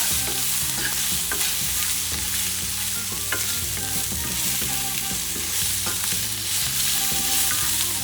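Garlic and scallop salad ingredients stirred in a hot pan, sizzling steadily and loudly throughout, with repeated scraping stir strokes and a clattering utensil over the frying hiss.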